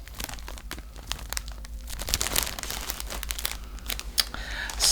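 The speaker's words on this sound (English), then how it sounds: "So I'm sorry for all the crinkling, but they will come in these plastic" Plastic packaging around a skein of evergreen yarn crinkles and rustles up close in irregular bursts, growing louder toward the end.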